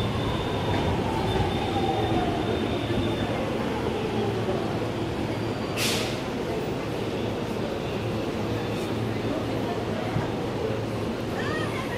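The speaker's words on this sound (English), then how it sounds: "Here we have an E231-500 series arriving into platform 15." An E231-500 series train on the Yamanote line pulls into platform 15 at Shinjuku station, a steady loud rumble of the train under busy platform noise with a brief high hiss midway.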